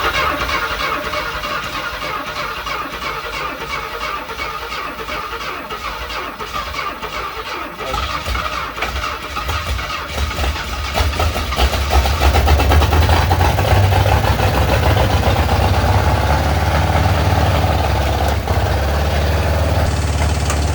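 A 1966 Ford Mustang engine cranks over and fires around eight seconds in, then settles into a loud, steady, low rumbling idle that runs to the end.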